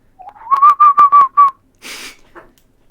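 A voice imitates a strange, peculiar whistling heard from far off, a wavering tonal whistle in several short pulses followed by a breathy hiss and a faint click.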